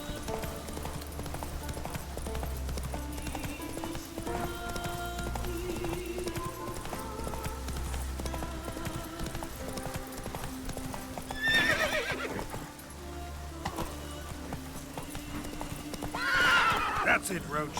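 Roach, the horse in The Witcher 3: Wild Hunt, trots along with a steady clip-clop of hooves under game music. He whinnies loudly twice near the end, and someone talks over part of it.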